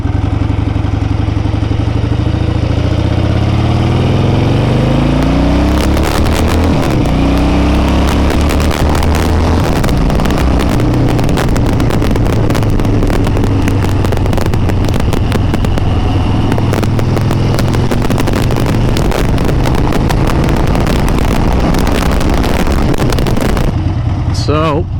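A Harley-Davidson Ironhead motorcycle with a slipping clutch revving hard up close, its loud rough engine climbing into rapid crackling pops, with voices heard briefly.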